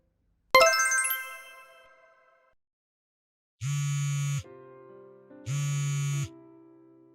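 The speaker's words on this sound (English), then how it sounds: "Pick up the phone." A mobile phone sounds a single bright chime that rings out, then two loud, buzzy ring pulses follow with a pause between them, close and clear with no talking.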